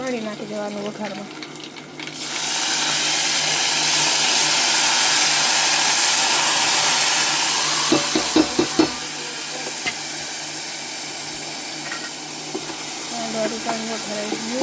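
Sugar water poured into a hot dhokla tempering bursts into a loud hissing sizzle that swells and then slowly settles, with a few clinks partway through and a voice talking before and after.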